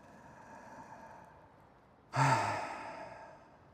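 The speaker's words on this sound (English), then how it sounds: "Just breathing." A single deep breath, a sharp inhale that eases into a long, fading exhale, close and soft against a quiet room.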